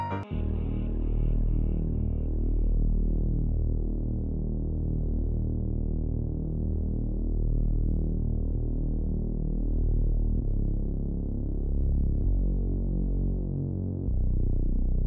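Deep, sustained bass synth notes swelling and pulsing steadily, dense low tones filling the clip with no voices.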